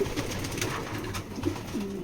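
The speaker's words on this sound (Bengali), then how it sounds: "টপ একটা ভালো লাইনের কবুতর।" Pigeons coo steadily and continuously at a pigeon market where top-line foreign-breed male pigeons are sold, with a soft ambient murmur and no clear talk.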